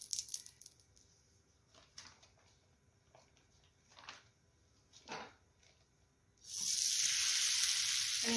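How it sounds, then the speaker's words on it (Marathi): Oil sizzles on a hot griddle used to cook dhapate flatbread. Scattered quiet clinks and taps come first, then a loud, close, continuous hiss of frying starts suddenly and carries on to the end. "तव्यावरती थोडंसं तेल टाकून घेऊया."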